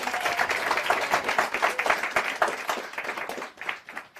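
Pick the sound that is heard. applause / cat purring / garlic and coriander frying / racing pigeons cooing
applause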